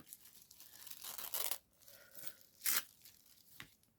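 Scissors snipping through paper for a cut-out crafting piece, close and soft with a continuous crinkling rustle and a couple of sharper louder cuts, no talking.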